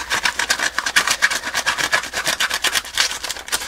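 A gummy worm tucked inside an envelope is yanked like a pull-start cord, tearing the paper open with a steady run of rapid, rough rasping strokes, close and loud, with no voices.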